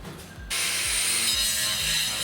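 Electrical conduit having its top section cut away during a house electrical renovation, a repeated rasping, ratcheting cut in rhythmic strokes after a short quiet start, close and steady.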